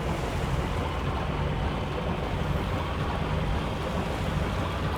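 Boat moving over water in the video game Far Cry, a steady broadband wash of engine and water noise with wind-like hiss, continuous and fairly even throughout, no voices.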